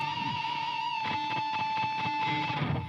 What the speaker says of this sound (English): if I deaden the string right after I pick it